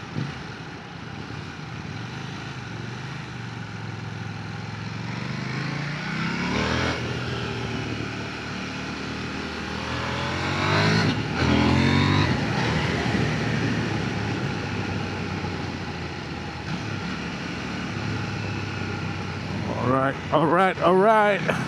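Zontes 703F motorcycle engine revving while riding, a rising and falling drone that swells louder near the middle and end, with gear-change dips, wind rush and a rider chatting over it.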